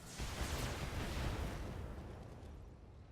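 Mech weapons fire in the BattleTech video game, a dense, loud volley of blasts and rumbling impacts that swells early and tails off over about three seconds, with no voices.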